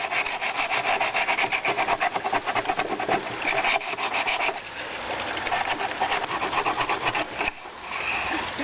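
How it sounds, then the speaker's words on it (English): Sandpaper rubs rapidly back and forth to round off burred edges on a pool deck drain, a loud close rasping scrape in quick repeated strokes, with short pauses between bursts and no talk. "So then we'll take the sandpaper and round out the edges a little bit."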